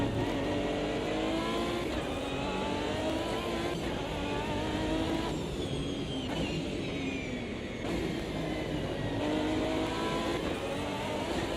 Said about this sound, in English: Damn, this car sounds good.